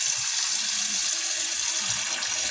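Tap water runs steadily over a banana heart being washed, a close, constant splashing stream with no pauses.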